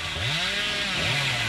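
Chainsaw in the horror game Dead by Daylight revs up and down in two rising-and-falling surges, loud and close, with no talking.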